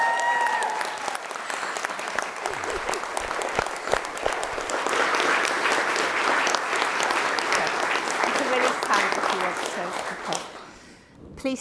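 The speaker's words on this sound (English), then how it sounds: "Can we have a round of applause" A wedding ceremony audience applauds the newly married couple with steady, full clapping that keeps going for about ten seconds and then tapers off at the end.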